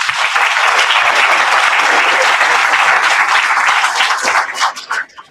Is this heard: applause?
yes